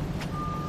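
A reversing truck sounds a single steady electronic beep, clear and moderately close, over a low rumbling engine and traffic background.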